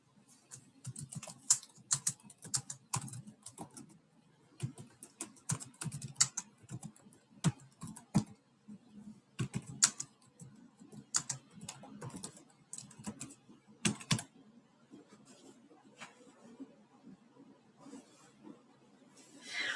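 Bursts of quick tapping on a computer keyboard, close and fairly quiet, with short pauses between runs of keystrokes.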